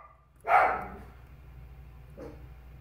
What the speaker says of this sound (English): My dog barked and he scared me.